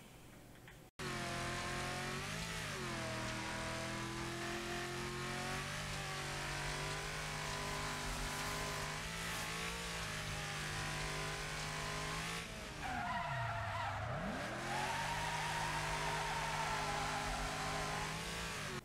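A Super Venom race car in Wreckfest revs at a sustained high pitch throughout, with engine notes dipping and climbing through shifts and corners, plus a burst of tire squeal and skidding near the end.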